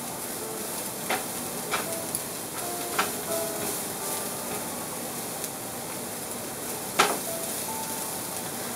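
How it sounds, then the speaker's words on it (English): A steady sizzle from food being stir-fried in a pan over medium-high heat, with a few sharp clicks and taps of a utensil against the pan scattered through. "Increase the heat between medium to high so that you can stir fry them on quickly."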